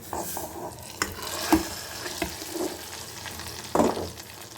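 Hot oil sizzles quietly as fried mustard seeds are added to a dal and bitter gourd curry, broken by a few louder pops and crackles as spluttering bursts rise and fade.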